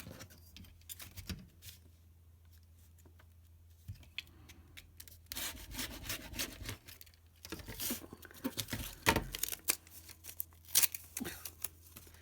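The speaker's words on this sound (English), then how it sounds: "If you get a rotary blade, and decide how deep you want to cut it," A rotary blade rolls across fabric to cut bias strips, making soft scraping and rubbing strokes in several passes against a cutting mat, quiet and close.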